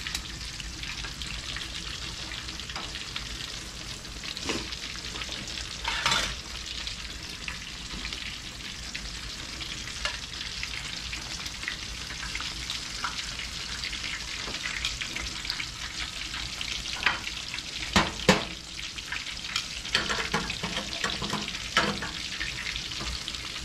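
Greens cooking on low on a home stove, a soft continuous sizzle and bubbling with occasional clinks and stirring sounds, steady and moderately close without talk.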